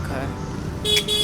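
Jammed road traffic near Kainchi Dham, with a short car-horn toot near the end over a steady murmur of engines and voices.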